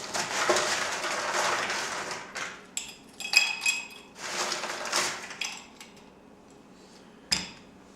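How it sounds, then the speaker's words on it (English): Ice dropped into a glass or mixing vessel for a whiskey Manhattan, heard as a clattering rush followed by several sharp clinks and rattles that thin out into a few isolated taps. "First thing we need to do is add ice."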